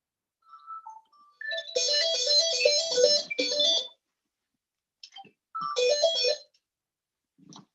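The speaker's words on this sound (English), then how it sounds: "I think I heard a phone call" Phone ringing during a surgical dissection, a melodic electronic ringtone in two bursts of rising and falling tones separated by a pause, clear against near silence.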